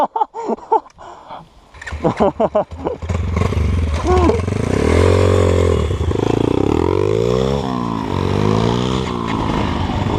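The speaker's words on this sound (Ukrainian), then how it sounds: "Ого, який вихлоп того підбайка" A small pit bike engine, a Kovi Pit, revs up loud and close, its exhaust roaring and droning steadily with rising and falling pitch after a few brief starting bursts.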